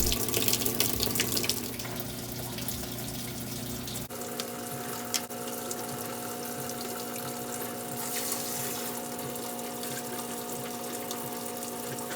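Hot water rushes steadily into a washing machine tub set to its hottest, largest load, a continuous filling hiss with a low pump hum underneath, loud and close throughout with no talking.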